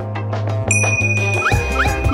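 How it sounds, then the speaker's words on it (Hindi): A bell chimes at a school as the class period ends, a bright sustained ring starting partway through and continuing over a background music bed. "घंटी बजने के कारण बच गए।"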